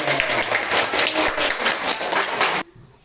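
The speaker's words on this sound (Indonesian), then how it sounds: "Tepuk tangan itu." A group of students claps together for a presenting team in a classroom, a dense patter of many hands at close range that stops abruptly just before the end, leaving near silence.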